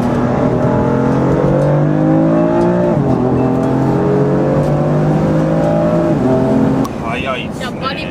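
A BMW M4 coupe engine accelerates hard, its loud, rising note climbing steadily and dropping back at two gear shifts before easing off near the end.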